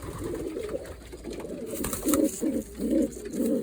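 Pigeons coo in a loft where young birds are kept for racing, a cluster of low, throaty, rolling coos repeating in close succession, fairly near and with no speech.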